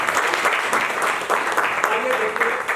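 An audience claps for a stage play at a theatre festival, a loud, dense patter of many hands with crowd voices mixed in.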